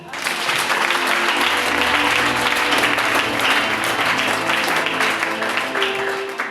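A church congregation bursts into sustained applause for the Lord, a dense, steady wash of clapping from many hands that fills the room with a hint of voices mixed in.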